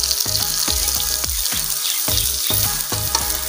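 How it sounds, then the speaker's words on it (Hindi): Onions fry in ghee with a dense, continuous sizzle broken by a regular series of sharp spatula knocks against the pan, close and loud, and no one speaks. "और देखिए उसी घी में हमने ये प्याज फ्राई करना है, और फ्राई भी थोड़ा थोड़ा करना,"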